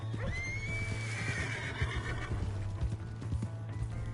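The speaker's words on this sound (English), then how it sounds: "I stole someone's horse" A horse whinnies loudly in a rising, drawn-out call inside Red Dead Redemption II, with clip-clopping hooves and a steady low hum underneath.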